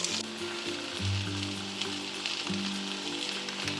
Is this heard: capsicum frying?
yes